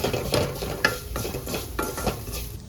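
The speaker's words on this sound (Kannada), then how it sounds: "ಇವಾಗ ಮಸಾಲೆ ಎಲ್ಲ ನೀಟಾಗಿ ಫ್ರೈ ಮಾಡೋಣ." Chicken masala spices being fried in a pan, with repeated stirring scrapes of a utensil against the pan over a soft sizzle, steady and close with no talking.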